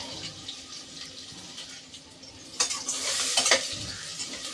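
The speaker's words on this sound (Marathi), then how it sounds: "तर मग तेलामध्ये टाकली होती मी राई टाकून मग टाकला कढीपत्ता" Chopped onion added to hot oil already holding mustard seeds and curry leaves gives a continuous crackling sizzle that swells into louder bursts of spitting and stirring near the end, with no voices.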